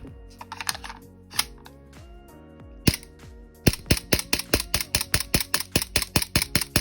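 An airsoft rifle converted from green gas to HPA fires a few scattered single shots, then a quick rapid string of sharp, close snapping reports in a regular rhythm.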